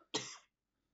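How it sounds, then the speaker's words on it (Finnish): A single sharp cough, close and fairly loud, lasting under half a second and then followed by silence. "Hetkinen, mun täytyy yskästä."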